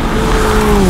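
Alfa Romeo 4C engine pulling hard on a country road, a steady loud drone whose pitch climbs smoothly through the rev range, close and continuous with no talk over it.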